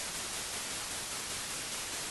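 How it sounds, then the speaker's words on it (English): Steady hiss of white noise from a software synthesizer, broadband and constant, with no voices or other sounds. "If I turn that up, that adds a layer of noise to the sound."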